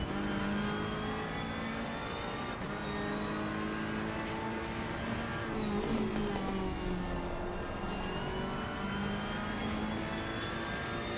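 Race cars circling Brands Hatch in Assetto Corsa Competizione, a steady loud wall of engine drone with overlapping revs and gear changes from a pack of cars running close together.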